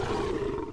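A saber-tooth tiger in the video game Conan Exiles lets out a short, loud, growling roar, close and alone, lasting under a second.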